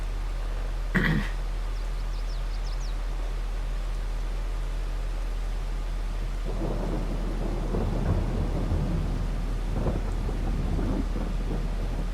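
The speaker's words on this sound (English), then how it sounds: "the constant rain hasn't helped" Rain and thunder in the farming video game Court Farm: a sharp thunderclap near the start, then a steady wash of rain with low rumbling swells later on, with no talking.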